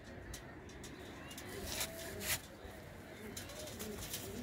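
A white-eyed female pigeon coos softly in a low, faint, rolling murmur, with a brief rustle or rub partway through.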